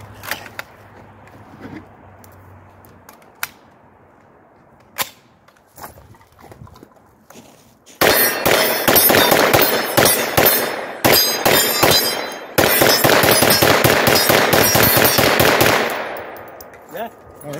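Turkish MKE AP5 MP5-clone submachine gun firing Tula ammunition: quiet handling clicks and metal clanks at first, then several loud, close bursts of rapid automatic fire with brief pauses between them.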